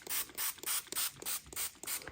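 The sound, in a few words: spraying ink onto an acrylic painting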